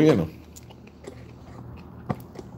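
Someone chews a breakfast meal of eggs up close, soft moist bites and crunches spread across a quiet stretch after a brief voice at the start.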